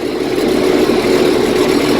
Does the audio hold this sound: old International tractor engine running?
yes